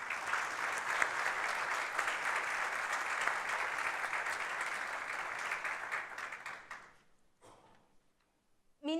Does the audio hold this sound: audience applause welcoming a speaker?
yes